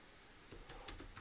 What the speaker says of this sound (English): So if we just type in self-esteem